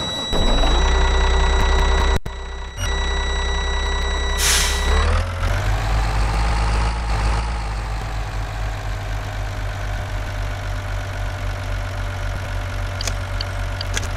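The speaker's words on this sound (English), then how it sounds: "So go ahead and take this bus out for a spin." Thomas Saf-T-Liner C2 school bus in the Rigs of Rods driving game, a steady engine drone that shifts and rises as it pulls away, with an early reversing beep and a hiss like an air brake.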